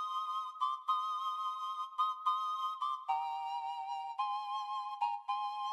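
A sampled flute-like melody processed with the X-Band 2 Ocarina preset plays as a pure, breathy whistling tone, stepping through sustained notes with short gaps, clear and alone.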